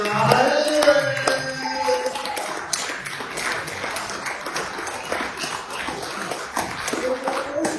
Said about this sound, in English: Please have your round of applause for Andy Silver